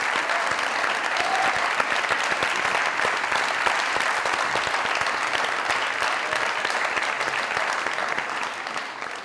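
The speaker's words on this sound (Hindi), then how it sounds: "जोरदार तालियां।" Loud, sustained applause from a studio audience at a comedy talk show, dense even clapping that holds steady and tapers slightly at the end.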